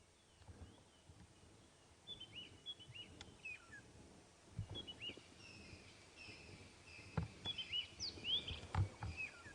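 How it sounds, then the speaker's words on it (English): Small birds calling and chirping around a morning safari drive, scattered high chirps and short whistles at moderate distance over faint rustling and low rumble, with occasional louder calls near the end. "You can hear quite a lot of birds calling around as well, the smaller variety"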